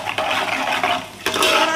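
A spoon stirs fennel seeds and cardamom through melted ghee in a pan, giving a steady close scraping and rustling with a brief clink of metal partway through; no one speaks over it.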